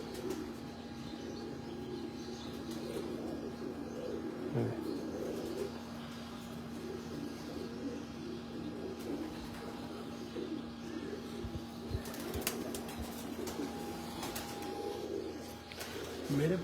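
Breeder pigeons coo steadily at moderate distance, a low continuous murmur from the flock with a faint steady hum alongside and a few brief knocks near the end.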